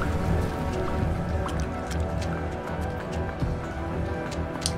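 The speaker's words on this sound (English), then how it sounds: "This is how we know where the water is flowing through." Water runs through a working machine in Jenny LeClue, a dense, steady liquid rush with scattered drips and faint tapping, loud and continuous with no speech.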